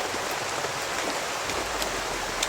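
Steady rain pours outdoors along a walking route, a dense, even hiss of drops striking surfaces with a few sharper splats standing out, loud and continuous throughout.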